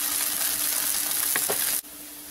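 Sago thalipeeth roasting on a pan after being flipped, a steady bright sizzle with a couple of faint scraping touches, cut off abruptly near the end, no talk.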